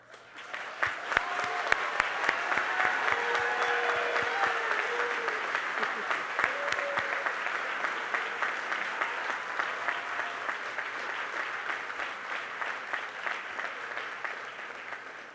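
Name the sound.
audience applauding graduates at a commencement ceremony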